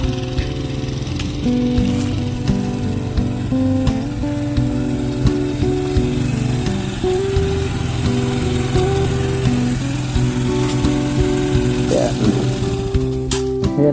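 An eight-year-old motorcycle engine runs steadily nearby with a buzzing, slightly uneven hum and occasional clicks and rattles, and nobody speaks.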